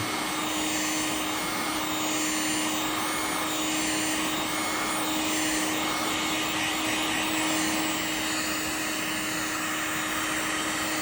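Heat gun blowing onto a Kydex sheet to soften it, a steady loud whooshing fan roar with a constant whine, unbroken and close for the whole stretch without any talking.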